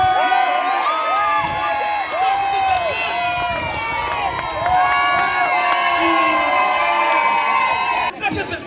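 A lively crowd at a live wrestling show cheers, shouts and whoops continuously and loudly, with children's voices rising over the din and a brief dip near the end.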